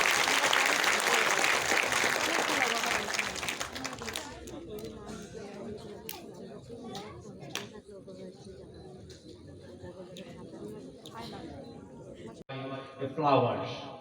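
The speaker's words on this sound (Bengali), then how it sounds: "ওনার জন্য আমরা একটা করতালি দিই" An audience at a university law alumni reception claps loudly for a few seconds, then the applause thins out and tapers off, while voices carry on in the room afterward.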